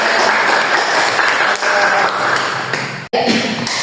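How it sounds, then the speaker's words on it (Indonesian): A classroom of students at an Indonesian school breaks into loud, dense applause, continuous clapping close by with a brief cut near the end. "Oke, tepuk tangan."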